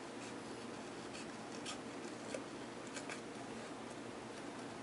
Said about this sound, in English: bear with me for a minute while I fussy cut around